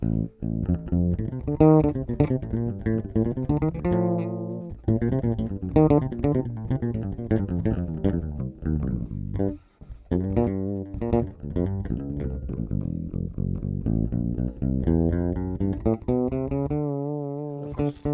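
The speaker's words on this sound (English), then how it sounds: "you do get some percussive kind of noise from the fingerboard" A fretless bass with a superglued neck plays a sliding, melodic line with gliding notes and a slightly percussive attack from the fingerboard, heard alone with brief gaps between phrases.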